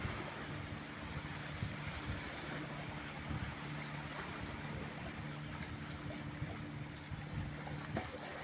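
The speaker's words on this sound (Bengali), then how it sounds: "এই যে একটা স্পিড বোট আসতেছে আইল্যান্ড থেকে" A speed boat approaches from an island across open water, its steady low engine drone running continuously beneath wind and the wash of waves, fairly faint and without any talking.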